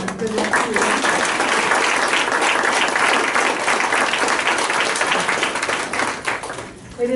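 Sustained audience applause for retirees at a ceremony: dense, loud clapping from a crowd that holds steady for several seconds, then thins and fades near the end.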